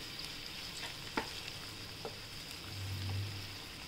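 Besan (gram flour) is stirred and sautéed in a pan, a quiet steady sizzle with a few light scraping clicks and a low rumble swelling near the end.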